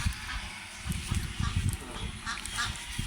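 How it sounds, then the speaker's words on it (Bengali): Ducks quack at a village pond, a short burst of low nasal calls near the middle, fairly faint over a soft outdoor background. "এই যে বেশি হাঁস"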